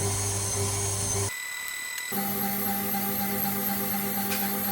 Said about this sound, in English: put that whisk back on